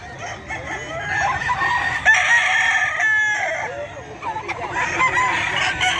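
Sweater gamefowl roosters crow and cluck at the Bocaue pet market, several overlapping crows close by amid clucking and market background noise.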